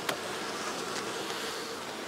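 A steady, dense drone of many honey bees buzzing close by at an open hive, continuous and unbroken throughout, with no voices.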